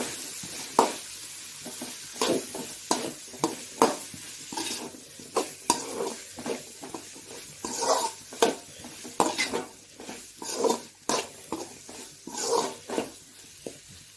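Eggplant pieces fry and get stirred in an oily masala for a gravy, with a spoon scraping and clinking against the pan in irregular close bursts over a soft steady sizzle, no voices.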